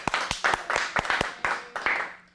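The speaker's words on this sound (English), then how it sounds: "Let's give him a big round of applause" A small acting-class group claps for a student, a short burst of about a dozen sharp, uneven claps spread over two seconds, close and fairly loud.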